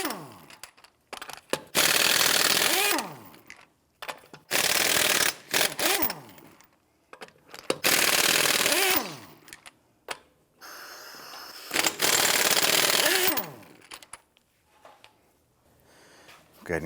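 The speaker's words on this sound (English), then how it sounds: "Use a 21mm socket to go ahead, loosen and remove the lug nuts" Socket wrench or impact tool loosening and removing wheel lug nuts on a 1992-1996 Toyota Camry; several long loud whirring bursts separated by short quiet gaps.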